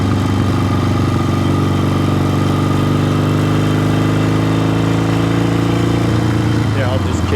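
A 1972 Yamaha XS2 650cc motorcycle engine runs steadily and loud while riding, a continuous throbbing drone with a gear downshift near the end, alone without talk.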